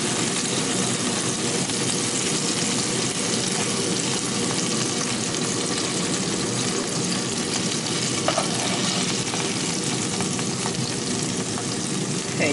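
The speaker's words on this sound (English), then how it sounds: "whilst we saute all the vegetables" Vegetables sautéing in a pan used to sear lamb chops for a stew, a dense, steady sizzle with occasional faint clinks and stirs, close and unbroken, no voices.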